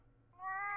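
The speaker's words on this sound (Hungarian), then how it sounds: "Hogy visszhangzik a macska." A single cat meow in the video game The Last Door rises and holds, loud and clear, over a faint low background hum, with a slightly reverberant tone.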